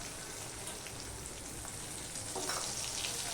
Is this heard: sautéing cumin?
yes